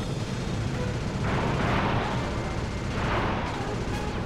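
Gunfire from enemy shooting in the PS3 game Sly 2: Band of Thieves, heard as dense rumbling bursts of blasts in two swells over steady game noise.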